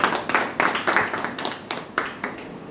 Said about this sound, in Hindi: उनके सम्मान में भी जोरदार तालियां बजाते उनका